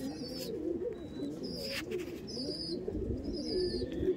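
High-flying pigeons coo in soft, repeated throaty phrases inside a loft, several birds close together, with occasional thin chirps over the steady murmur.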